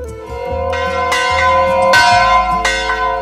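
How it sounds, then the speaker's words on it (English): A church bell at Hjerl Hede in Denmark, a copy of the old Smålerup bell, strikes several times with bright clangs and long ringing overtones that overlap and hum on between strokes. "The church bell is a copy of the bell at Smålerup, the oldest in Denmark."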